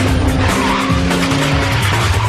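The number 7 Mosler race car at turn 1 during an Australian GT race, loud tire squeal and skidding with engine roar, continuous and close, with no talking.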